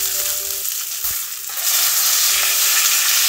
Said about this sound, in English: now time to flip our fish to the side.